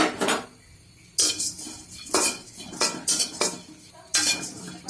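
Dried shrimp stirred in a frying pan with a metal spatula, sharp repeated scraping strokes in uneven bursts, close and loud over a light background sizzle.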